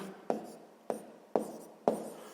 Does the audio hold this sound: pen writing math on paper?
yes